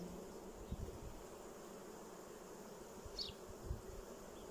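Honeybees hum in a steady, soft drone as brood frames are shifted while two colonies are joined in spring, the low buzz continuous and even with a few slightly louder swells.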